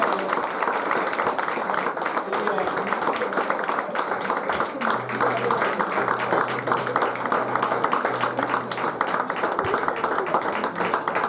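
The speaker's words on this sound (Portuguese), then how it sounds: "Você pode aplaudir o nome do Senhor Jesus." A church congregation claps steadily through a worship service, the dense, even applause lasting the whole stretch with a voice over it.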